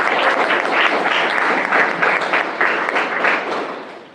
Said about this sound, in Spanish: les pido un aplauso para recibirlo